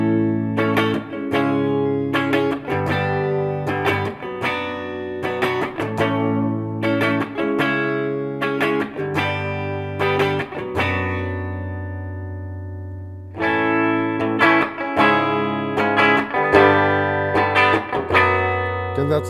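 Clean electric guitar through the neck pickup of an Epiphone with Alnico Classic Pro or Probucker humbuckers plays strummed chords and picked notes with a warm, rounded tone and a wash of reverb, steady and close, no voices.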